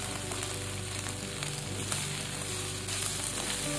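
Sliced vegetables frying in a pan, a continuous soft sizzle and crackle close by with faint stirring, no talking.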